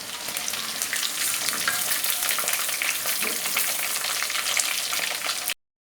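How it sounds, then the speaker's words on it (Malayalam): Chicken pieces deep-frying in hot oil give a loud, continuous bubbling sizzle that holds steady throughout, then cuts off abruptly near the end. "നമ്മൾ ബാക്കിയും കൂടി ഇതുപോലെ ഇട്ടെന്ന് വറുത്ത് കോരിയെടുക്കാം."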